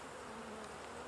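Honey bees in an opened hive give a dense, steady buzzing drone, close and continuous for a brief moment.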